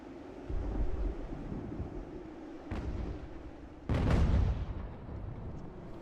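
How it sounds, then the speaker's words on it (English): Mortar fire in the Ultimate General: American Revolution strategy game: two heavy booming blasts, near 2.7 and 4 seconds, with a deep rumbling tail, over a constant low battlefield drone, no voices. "You can see our mortars are opening fire on the enemy."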